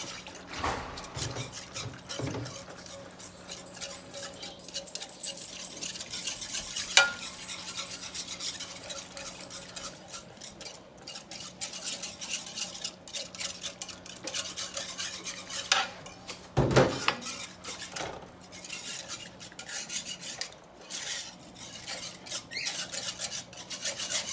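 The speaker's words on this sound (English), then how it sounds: "Work your spoon or your whisk or whatever you're using here. You want to get these lumps out." A spoon or whisk scrapes and stirs breakfast gravy in a pan, working out lumps with steady, close metallic rasping and stirring that runs continuously, with an occasional louder clatter against the pan.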